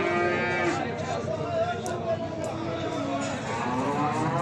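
Cattle at a livestock market in Beyləqan give out several long, drawn-out moos, loud and close, over steady crowd noise with people talking in the background.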